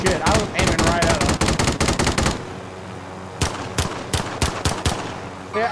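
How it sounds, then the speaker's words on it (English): Rapid pistol gunfire in a video game, a dense burst of close, loud shots for over two seconds, then a pause and several more scattered single shots. "Let me pistol them to death."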